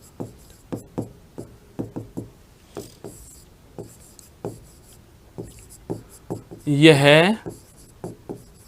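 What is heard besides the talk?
writing on a board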